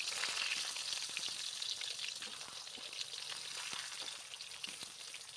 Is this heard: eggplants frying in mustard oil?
yes